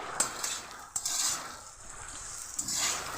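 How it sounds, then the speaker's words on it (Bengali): Teasel gourds (kakrol) being stirred in a pan on a gas stove, with a few close metallic scrapes of the spoon over a soft background sizzle, no voices. "কাঁকরোলগুলোকে নেড়ে চেড়ে দিচ্ছি"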